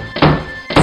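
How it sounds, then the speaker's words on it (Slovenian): Two dull knocks on a door, spaced apart and loud, in an animated children's fairy tale of the three little pigs, with no voices. "Vuk pokuca na vrata i dozove"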